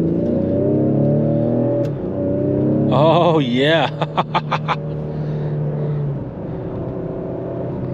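A 2021 Ford Explorer ST AWD in sport mode revs as it holds gears, a loud engine drone rising and falling under a man's brief remark, with a short burst of pulsing sound midway.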